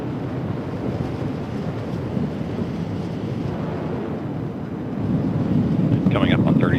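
Atlas V 531 rocket with its RD-180 engine in flight, heard as a deep, broad distant rumble that swells louder near the end, buffeted by wind noise, with a voice briefly audible late.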